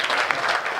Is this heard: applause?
yes